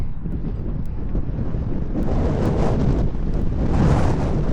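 Heavy wind outdoors in New Zealand buffets the microphone continuously, a loud low roar that swells and gusts throughout with no voices.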